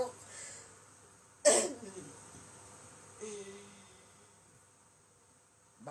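A person coughs indoors: one sharp, loud cough, then a softer one a couple of seconds later, over a faint background hum.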